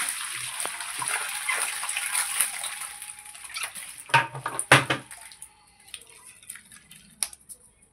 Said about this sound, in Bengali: বাড়িতে মাছ জিওয়ানো ছিল বালতিতে, ওই যে সেই মাছগুলো ঢেলে নিলাম।